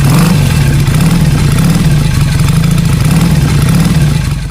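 A Royal Enfield Fury 500cc motorcycle engine rumbles loud and close, with a steady, throbbing low drone that holds without a break and fades slightly at the end.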